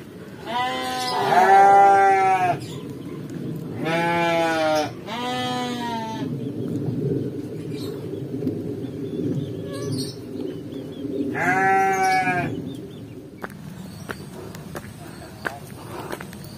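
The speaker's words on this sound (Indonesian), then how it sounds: "Banyak domba di sini, sahabat." A flock of sheep in a village bleats several times, loud nearby cries with wavering pitch spaced a few seconds apart, over a low background murmur and occasional footsteps.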